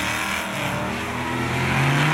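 Chevrolet Camaro Formula Drift car at Atlanta held at high revs on full throttle, a loud sustained engine roar with a rising pitch near the end.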